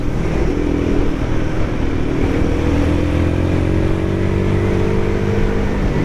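A Royal Enfield Guerrilla 450 motorcycle rides along twisting mountain roads, its mid-pitched engine droning steadily close by, with rising tones as it accelerates through the bends and wind rushing throughout.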